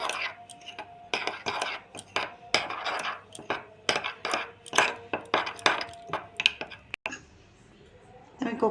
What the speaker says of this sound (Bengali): অন্য একটা চামচ দিয়ে ভালো করে ফাটিয়ে নেব এটাকে